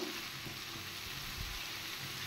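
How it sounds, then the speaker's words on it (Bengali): Potato pieces and drumstick (sajne danta) lightly frying in a pan hiss in a soft, even sizzle, broken by a few low knocks of stirring, fairly quiet and close. "সবজিগুলো একটু হালকা ভাজা ভাজা করে নিই"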